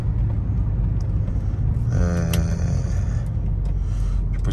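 A rare Australian Chevrolet Omega hums smoothly with a steady low engine rumble while driving, the road noise even and continuous and a brief brighter rattle rising in the middle.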